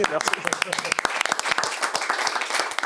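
An audience applauds in a brief, dense patter of clapping, moderately loud, with voices mixed in.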